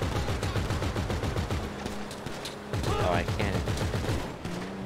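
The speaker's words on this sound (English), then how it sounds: "He's shooting too?" Rapid gunfire in GTA Online during the Doomsday Heist, a dense run of automatic shots with some overlapping bursts, loud and close, while someone talks over it briefly.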